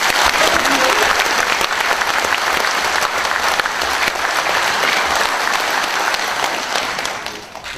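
Steady, loud applause from an audience at a Democratic Party appointment ceremony, sustained clapping that fills the room before tapering off near the end.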